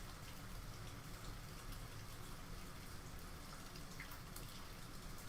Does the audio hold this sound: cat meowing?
no